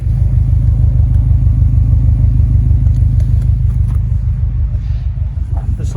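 A 2018 Subaru WRX STI idles with a deep, loud, pulsing rumble through its dual exhaust, a steady throbbing beat recorded close to the car with no one talking.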